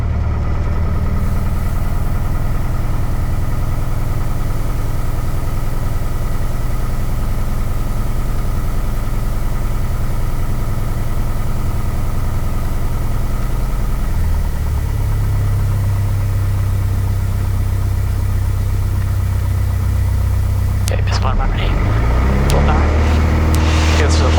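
A small Piper Warrior's engine drones loudly and steadily during a night takeoff from runway 32 at Pittsburgh, with a deep, constant rumble and a shift in pitch partway through. A voice talks over the engine.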